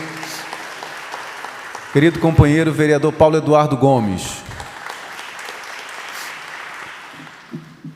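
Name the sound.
applause at public hearing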